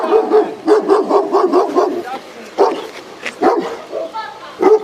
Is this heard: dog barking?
yes